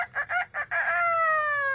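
A pet parrot mimics a rooster's cock-a-doodle-doo, starting with four short choppy notes and ending in one long, loud, sustained harmonic crow, heard clearly with no talking.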